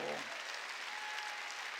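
Brief burst of congregation applause in a church sermon hall, soft and steady clapping filling the short moment after a voice trails off at the start.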